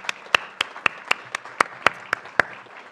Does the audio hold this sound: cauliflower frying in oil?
no